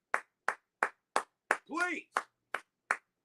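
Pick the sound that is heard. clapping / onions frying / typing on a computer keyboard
clapping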